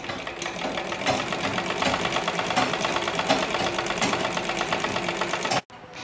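A sewing machine stitches hand gloves cut from old leggings, its steady fast whirring running evenly for over five seconds before stopping abruptly.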